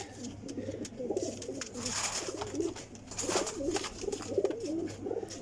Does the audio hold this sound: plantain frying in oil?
no